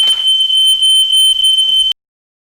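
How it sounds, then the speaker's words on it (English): A kitchen smoke alarm near a stove, set off while cooking spiced cod with lentils, sounds a loud, piercing continuous electronic tone for about two seconds, then cuts off abruptly. "There goes the fire alarm."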